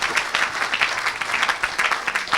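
An audience in a church hall applauds steadily, a dense burst of many hands clapping that continues throughout at a fairly loud level.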